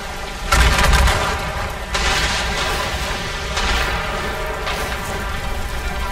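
Naval cannon fire from a ship battling fire ships in Assassin's Creed Rogue: three or four heavy booming blasts a second or so apart, loud and close over a constant rumble of sea and wind.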